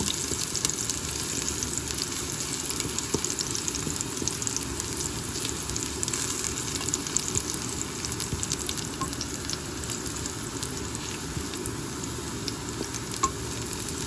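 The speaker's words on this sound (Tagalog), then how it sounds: "Ayan, mag-brown na ang kanyang bawang." Garlic frying in a little cooking oil, a continuous close sizzle and crackle with occasional tiny pops, steady and unbroken throughout.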